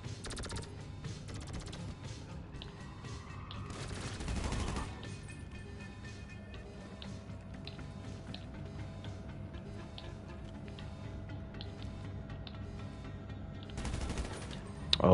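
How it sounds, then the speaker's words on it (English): Faint gunfire crackles through a GTA video game scene, with scattered ticking shots and a couple of brief louder bursts over a constant low background hum. "there's people shooting at you"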